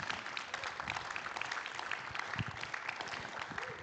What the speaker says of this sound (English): Can we please give these great humans a round of applause?